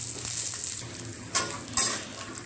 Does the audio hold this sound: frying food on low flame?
yes